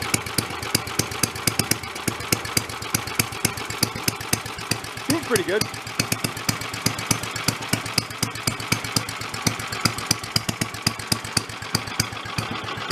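A busted 8HP vacuum engine idles at close range with a steady, fast, even putter that never stops. Someone speaks briefly over it.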